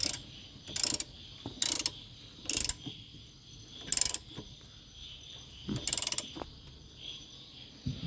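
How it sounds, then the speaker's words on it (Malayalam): Ratchet wrench tightening a car's inner tie rod nut, heard as five or six short bursts of rapid metallic clicking spaced about a second apart, close and clear with quiet pauses between strokes. "ഇനി നമുക്ക് ഈ റാച്ചറ്റ് വെച്ചങ്ങ് ടൈറ്റ് ചെയ്ത് കൊടുക്കാം."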